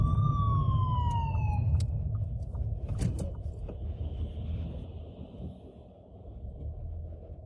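An ambulance siren wails briefly behind a car and falls away early on, leaving a steady low traffic rumble with a few clicks and passing noise, in Lleida.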